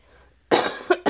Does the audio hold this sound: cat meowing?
no